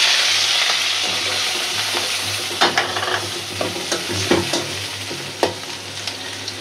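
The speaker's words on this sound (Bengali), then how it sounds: "চিংড়ি মাছটা খুব সুন্দর করে লাল লাল করে ভাজা ভাজা হয়ে গেছে।" Prawns fry in hot oil in a wok with onion, a steady close sizzle carrying on throughout, while a utensil stirs and scrapes in several sharp clinks and bursts across the second half.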